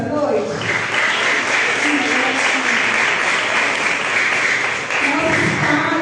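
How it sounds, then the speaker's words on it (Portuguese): Audience applause for fathers at an evening event, a dense steady wash of clapping from a large crowd that holds loud and even for about six seconds, with a short dip near the end before swelling again. "peço a todos os filhos que dêem uma salva de palmas em homenagem aos pais esta noite"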